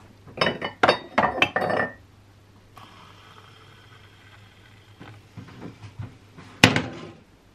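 Spoon clinks repeatedly against a mug while coffee and hot cocoa are stirred, a quick run of bright taps, then a soft pouring hiss, a few lighter knocks and one sharp final clink, close and with no talking.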